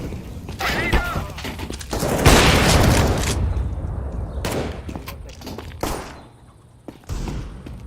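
A grenade is thrown in a video game shooter and explodes with a loud, sustained booming roar that fades out, with scattered gunshots and thuds around it.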